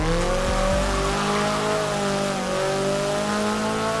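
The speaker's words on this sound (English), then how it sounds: "here's the sound file of what the car sounds like in Horizon 4" Toyota MR2 engine in Forza Horizon 4, loud and close, accelerating steadily with a rising harmonic whine over a low rumble, no voices.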